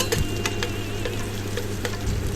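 Chopped onions fry in hot oil for noodles, a steady close hiss with a few light spoon scrapes as they are gently turned, no voices.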